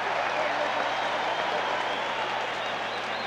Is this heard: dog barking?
no